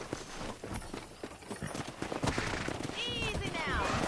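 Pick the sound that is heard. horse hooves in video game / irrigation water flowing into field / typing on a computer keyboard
horse hooves in video game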